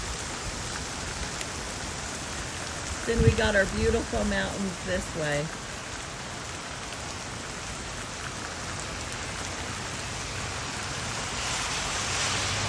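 Heavy rain falls on a porch in Utah, a dense continuous hiss and patter close around, with someone speaking briefly over it midway.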